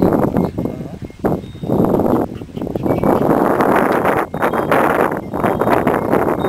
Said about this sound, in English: What do you think about that wind stuff?